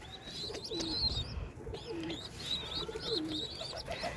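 Desi pigeons coo softly in a loft where chicks are kept, with repeated low throaty coos and a few higher chirps overlapping at moderate distance.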